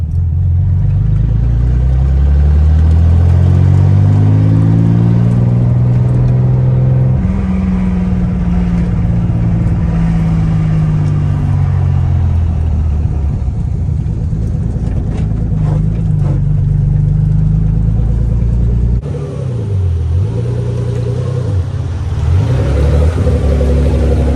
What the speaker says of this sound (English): I'm pretty sure I have another vacuum leak somewhere because the RPMs are super high.